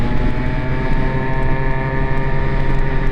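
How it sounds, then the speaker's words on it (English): An Aprilia SR50 scooter engine runs at high RPM, a loud, close, continuous buzzing drone that holds steady for the whole stretch. "if I make a turn off here, it'll start sputtering, and let's see if it'll do it"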